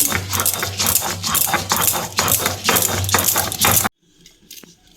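Mustard seeds and salt are ground by hand on a flat grinding stone, a dense run of rhythmic gritty scraping and crunching strokes that stops abruptly near the end.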